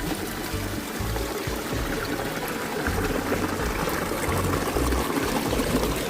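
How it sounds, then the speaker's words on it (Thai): Kinnaree waterfall in Bueng Kan running with little water, a steady close rush and trickle of falling water that continues without pause. "เบิ่งแล้วน้ำตก ไหลจอดจอดบัดนี้ ช่วงนี้จะไหลหน่อยนะครับ ไหลน้อย"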